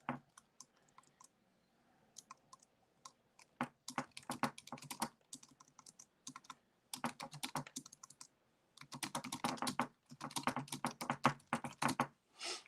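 Computer keyboard typing while text is edited, in quick bursts of key clicks separated by short pauses, close and fairly loud, with no talking.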